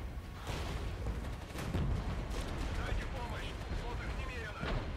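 T-80UD tanks firing in the video game Regiments, a dense rumble of distant cannon and gunfire thuds over continuous battle noise, with someone talking over it.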